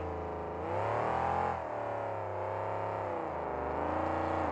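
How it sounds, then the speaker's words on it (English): Monster truck engine roaring during a freestyle run at a 2004 Jacksonville event, a loud, sustained rev that swells briefly and then settles into a steady, droning whine, close and alone. "And now he spins the truck out."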